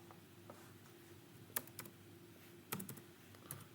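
A few sparse keystrokes on a computer keyboard sound as clicks over a steady low room hum, with two or three louder taps standing out.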